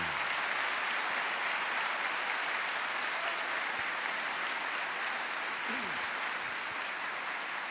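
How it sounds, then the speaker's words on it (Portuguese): A church congregation applauds after a Gospel reading at a Catholic Mass led by Padre Léo, a steady, dense wash of clapping filling the room at even loudness throughout. "Pode aplaudir a palavra."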